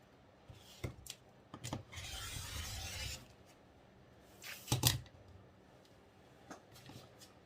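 Christmas lining fabric being cut against a patchwork ruler, heard as soft close rubbing and rasping with a longer scraping stretch and a few sharp taps, with no talking.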